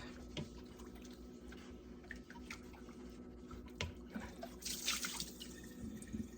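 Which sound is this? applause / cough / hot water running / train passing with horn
hot water running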